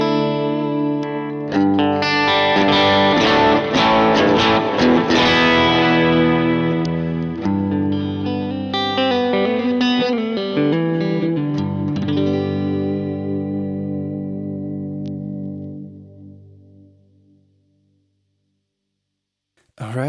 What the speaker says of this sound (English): I'm playing my Gretsch Duojet into two Kempers with a Michael Britt Vox AC30 on the left and a Tone Junkie Matchless DC30 on the right